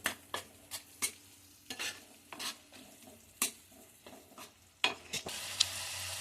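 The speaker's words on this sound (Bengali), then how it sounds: "এবার এটাকে ভালো করে আমি কষবো" Dry spice paste for onion-free dum aloo being stir-fried in a pan, with a steady low sizzle broken by repeated sharp spatula scrapes and knocks at an irregular rhythm, close and fairly loud.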